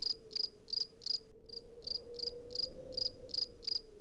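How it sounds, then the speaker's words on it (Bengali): Crickets chirp in a cartoon village setting, with quick, regular bursts of shrill trilling repeated about every third of a second over a soft, steady background hum. "ঝিঝি পোকার শব্দ হঠাৎ থেমে গেল"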